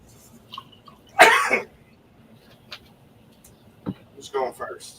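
A single loud, harsh cough bursts out, followed by a few fainter throaty sounds and small noises in a quiet room.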